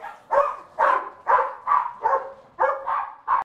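Dogs at a school daycare getting a hose bath on a hot day bark in a steady run of about eight sharp, evenly spaced yelps, close and clear with no talk.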